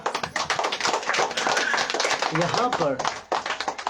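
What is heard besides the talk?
congregation clapping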